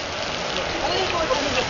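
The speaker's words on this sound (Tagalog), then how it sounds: "umuulan ng yelo" Hail pouring down like rain as a dense, steady hiss of small ice pellets striking surfaces, loud and continuous throughout.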